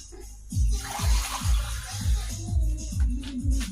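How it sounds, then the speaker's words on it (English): Water poured into a cooking pot in a home kitchen, arriving in several close gurgling glugs of splashing and sloshing, loud and alone. "Put some more water in here."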